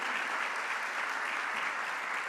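Steady round of applause for Dr. Sinanan at the Caribbean Investment Forum 2025 opening ceremony, a dense even wash of clapping from a large audience, heard at a distance and held at one level throughout.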